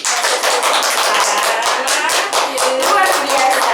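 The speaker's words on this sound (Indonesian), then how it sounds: "kita beri tepuk tangan dulu nih" Audience applause breaks out after a coaching demonstration at a teacher academic-supervision training session: dense, steady clapping from many hands, loud and sustained for several seconds without pause.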